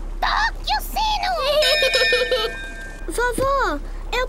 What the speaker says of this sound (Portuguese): Peppa, toque o sino!